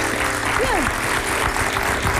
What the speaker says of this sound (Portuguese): Não gosta das aplausos.